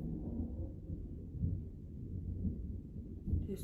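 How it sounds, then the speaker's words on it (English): Thunder rumbles outside, a low continuous roll with soft swells, heard faintly from indoors with no talking. "It's thundering outside."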